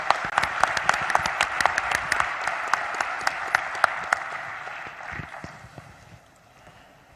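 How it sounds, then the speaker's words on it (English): Applause for a panel at the G20 Summit in Bali: distinct, sharp claps in a brisk rhythm from a moderate-sized audience, loud at first and thinning out as it fades away toward the end. "Please join me in a huge round of applause for our panel."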